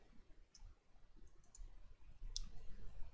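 A computer mouse clicks on a button in Adobe Dreamweaver, giving a couple of faint, brief taps over quiet room noise.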